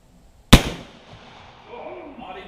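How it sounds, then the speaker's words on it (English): A single sharp, booming shot from a Jukar .45 caliber Kentucky muzzleloader rifle loaded with 60 grains of powder, close and loud, followed by a fading rumble and quiet outdoor ambience. "that sounded like a cannon going off"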